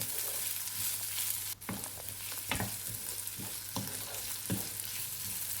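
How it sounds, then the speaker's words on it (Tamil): Ginger garlic paste sautéing in a pan for mushroom kurma, a steady soft sizzle with a few clinking stirs of a spoon against the pan, close and with no talking. "இஞ்சி பூண்டு பேஸ்ட் வந்து நல்லா வதக்கி விடுங்க, அதோட ரா ஸ்மெல் போகிற வரைக்கும்"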